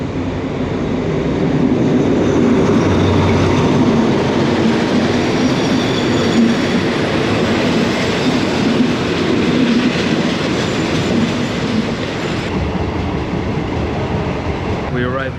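Riding a train in Thailand: a continuous heavy rumble with rhythmic clickety-clack of wheels on rails, steady and close throughout, with faint voices now and then.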